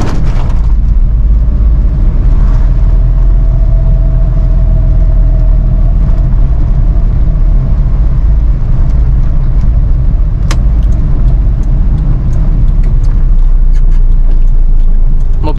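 A carbureted 1994 Suzuki Katana DX being driven, a loud steady low engine and road rumble heard from inside the cabin, continuous throughout with a few faint knocks and rattles.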